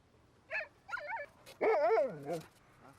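Sled dogs whimper and yip in short, whiny bursts, then let out a longer, wavering howl-like cry, close by with quiet pauses between calls.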